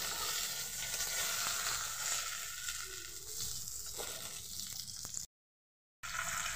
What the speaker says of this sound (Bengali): আবার 2 পিস মাছকে একসাথে দিয়ে ভেজে দেব।